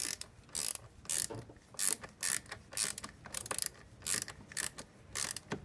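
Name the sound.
ratchet with 12 mm socket tightening car battery terminals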